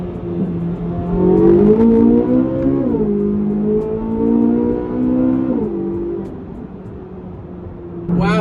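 A Corvette Z06 with a naturally aspirated V8 revs hard toward 8600 rpm, its loud engine note climbing in pitch through several pulls and gear changes, heard close up from the cabin, with a voice briefly heard near the end.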